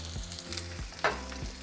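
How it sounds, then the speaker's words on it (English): Half an onion sizzles in hot oil in a frying pan for a seafood soup, with a steady close frying crackle and a few stirring scrapes. "once the oil heats up, we're going to add half of an onion"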